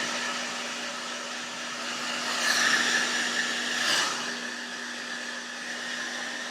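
A hair dryer blows steadily on hair from start to finish, a loud close whooshing hum with a faint tonal whine, swelling slightly twice as the airflow shifts, with no voices.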